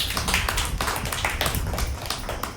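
Audience clapping at a Christian worship gathering in Chenchu Lakshmi Puram, a steady run of close, brisk hand claps with a quick even rhythm and no pause.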